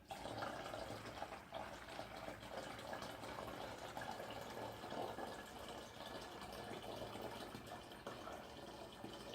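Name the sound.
water being poured in to make homemade vodka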